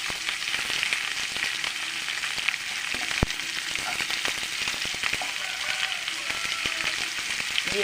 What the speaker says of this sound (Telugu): ఇప్పుడు కరివేపాకునండి, ఎండుమిర్చిని, ఇప్పుడు ఉల్లిపాయలు వేపాలండి.